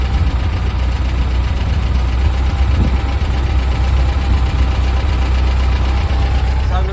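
Classic VW Beetle engine with a vacuum air leak idles steadily, a loud, constant low rumble recorded close by, with a faint voice in the background.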